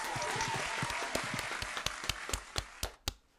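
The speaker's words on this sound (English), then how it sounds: "I would like to give a big round of applause, maybe some claps in chat" Clapping closes out a Twitch game show stream: a dense burst of applause at first, thinning into a series of single sharp claps that space out and stop.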